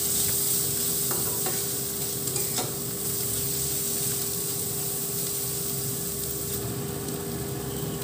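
Turmeric and ground spice paste fry in a hot pan for a tangy kawai fish curry, giving a loud, steady sizzle with occasional scraping stirs throughout, no talk.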